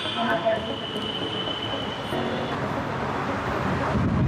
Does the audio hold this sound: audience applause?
no